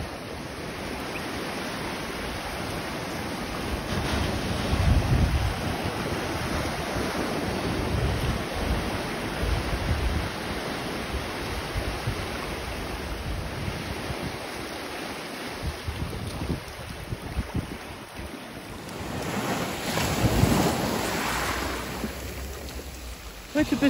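Ocean surf rolls and breaks on a beach where the waves are small, with steady wind buffeting the microphone throughout and a louder surge of water near the end.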